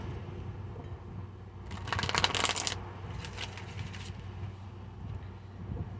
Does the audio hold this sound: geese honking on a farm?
no